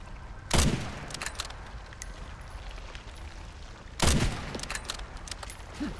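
Two loud sniper rifle shots ring out about three and a half seconds apart in the video game Resident Evil Requiem, each with a sharp crack and a trailing rumble over a low background.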